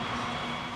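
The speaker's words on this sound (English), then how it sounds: "Trains going by, you don't hardly notice it until the whistle." A train rolls past a railroad crossing with a continuous low rumble and rattle of rail cars, steady and fairly close.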